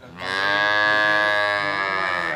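A single long, loud moo from a milking buffalo that calved five days ago. The call is close and sustained for about two seconds and stands alone without talk.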